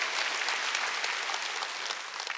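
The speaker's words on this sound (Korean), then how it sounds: "박수로 하나님께 영광 돌려요" Congregation applause during a Sunday church worship service, an even, continuous patter of many hands clapping at moderate distance, with no voices.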